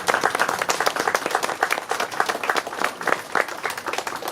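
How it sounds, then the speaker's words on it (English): An audience at an outdoor Main Street ribbon-cutting ceremony gives a sustained round of applause, dense rapid clapping at moderate distance throughout. "Give yourself a round of applause for the great work done for this report."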